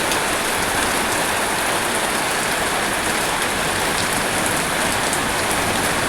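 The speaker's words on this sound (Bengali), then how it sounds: "এই যে বৃষ্টি পড়ছে আমাদের এখানে, পুরা জোরদার বৃষ্টি" Heavy rain pours down in a steady, loud, unbroken hiss of drops striking surfaces close by, with no voices.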